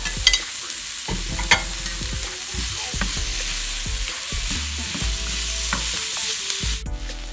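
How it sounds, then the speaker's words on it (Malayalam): Chopped green tomato being stirred into spice powders fried in oil in a pan, with continuous sizzling and repeated scraping and clinking of a spoon against the pan, close and steady. "ഇനി നമ്മൾ ആ പച്ചത്തക്കാളി ഇതിൻ്റെ കൂടെ ഒന്ന് ആഡ് ചെയ്യാണ്. ഇനി നന്നായിട്ടൊന്ന് മിക്സ് ചെയ്യാം."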